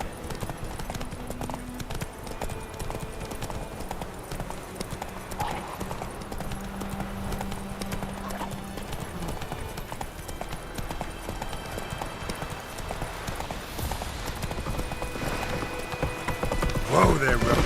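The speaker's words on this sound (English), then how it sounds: "Whoa there, Roach" A horse gallops in The Witcher 3, its rhythmic hoofbeats running steadily throughout beneath voices talking.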